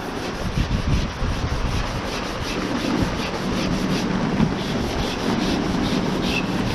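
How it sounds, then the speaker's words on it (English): Wet sanding of a car panel with 180 grit sandpaper in a smart repair job, a continuous close rubbing scrape with steady back-and-forth strokes and no talking. "we're just going to sand this down the same way that we did before"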